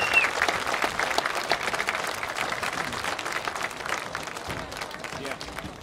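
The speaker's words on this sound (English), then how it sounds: "let's give them a big round of applause for their dedication to our country" Crowd applause fills the stands at a varsity high school football game between Liberty Center and Swanton, a steady, dense wash of clapping from a large crowd that holds evenly for several seconds.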